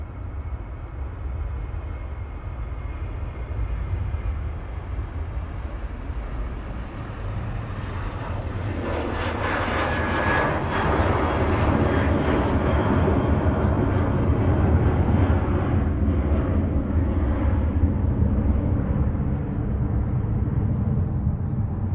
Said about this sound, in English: TUI's GTAWS on the roll to Palma de Mallorca, flight 2668,